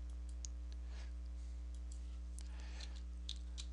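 Keys click lightly and irregularly as a command is typed on a computer keyboard, soft close taps over a steady electrical hum.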